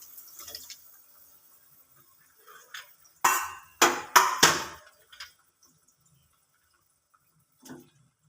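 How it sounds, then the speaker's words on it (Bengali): Pieces of rohu fish, fried eggplant and bori dropped one by one into boiling curry gravy in a Bengali kitchen, giving several close, sharp splashing plops clustered together, with faint bubbling before and a small splash near the end. "এবার আমি এক এক করে মাছ, ভেজে রাখা বেগুন, বড়ি সব দিয়ে দিচ্ছি।"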